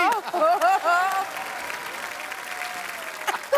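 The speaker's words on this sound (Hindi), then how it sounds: "ओए तालियां भी।" Studio audience applause on The Kapil Sharma Show swells after a comedic line, following brief talk at the start and continuing as a steady wash before fading out.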